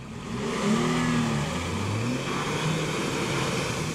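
A Mitsubishi Pajero Sport's engine revs hard while it tows a Jeep Rubicon out of mud, the pitch rising and falling over a continuous rough, moderately loud drone.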